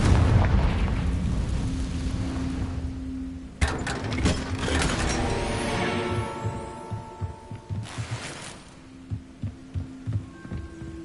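A Confringo blasting curse goes off in Hogwarts Legacy, with a sudden booming blast followed by a rumbling, ringing decay and then a run of rhythmic low thuds, loud and close.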